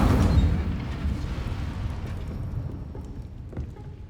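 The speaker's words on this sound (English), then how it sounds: "Setting things ablaze is certainly cathartic, isn't it?" Incendio fire spell cast in the video game Hogwarts Legacy: a loud, roaring burst of flame at the start that slowly dies into a crackling rumble over a few seconds, with no voices.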